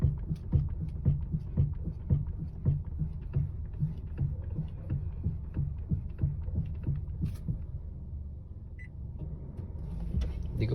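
A Honda HR-V with a steering fault, probably in the steering rack or tie rod, gives off a close, repeated low knocking thud in a fairly steady rhythm over a constant mechanical hum, with a faint clink near the end.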